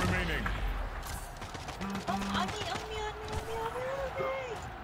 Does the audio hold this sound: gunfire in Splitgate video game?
yes